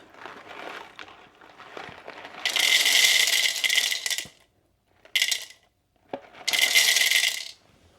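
Whole coffee beans are poured onto a kitchen scale in three bursts, a close, dense rattling cascade, then a short spill, then another long pour, with quiet handling sounds between.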